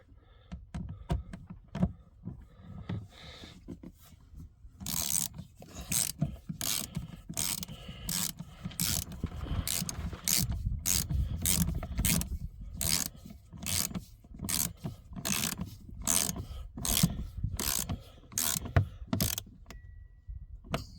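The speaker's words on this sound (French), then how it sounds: "Je vais juste serrer les vis vite fait." Screws being tightened on power wiring run from the engine to a car's trunk, heard as a steady run of close, rhythmic ratcheting clicks and rasping scrapes with no talk.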